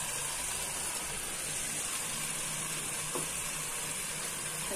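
Kidney beans stirred into well-fried sizzling masala for Punjabi-style rajma curry: a steady, even frying hiss throughout with faint stirring scrapes, close and without talk.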